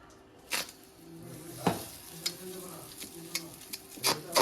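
Flour and green chili batter roti frying in a hot wok gives a faint sizzle punctuated by scattered scraping clicks of a utensil against the pan, close and quiet.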